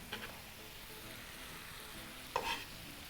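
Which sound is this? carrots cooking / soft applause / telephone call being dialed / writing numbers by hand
carrots cooking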